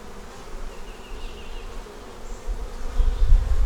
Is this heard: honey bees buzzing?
yes